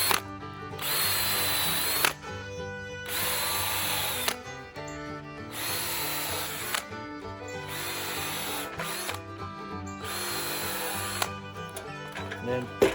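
A power drill bores plug holes into mushroom logs in repeated bursts, five loud whining runs of about one to two seconds separated by short quieter pauses, close to the listener.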